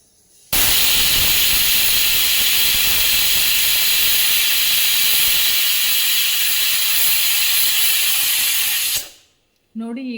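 A pressure cooker cooking ghee rice lets out a loud, continuous steam whistle and hiss that holds steady for about eight seconds, then cuts off abruptly, followed by a brief softer puff.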